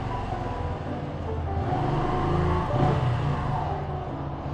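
Engine of a 14-year-old Kawasaki Rouser 135LS motorcycle revving high during a downshift, a loud continuous buzz that swells and peaks briefly before easing back.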